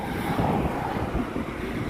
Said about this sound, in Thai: ลมแรงค่ะลมพัดหมวก